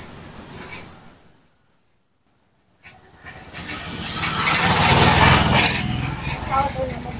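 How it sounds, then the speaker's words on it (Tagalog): A motorcycle approaches and passes nearby, its engine noise swelling from quiet to a loud, steady roar over several seconds, with voices heard beforehand. "Sige, may padaanin lang natin tong motor."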